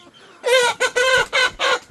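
Tiger breed chickens on a farm cluck loudly and close by, giving four or five clear, strident calls in quick succession with no talking.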